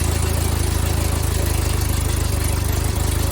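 A 1972 Fiat 850 Spider engine idles steadily up close, a continuous even throb with a fine rhythmic pulse and no pauses.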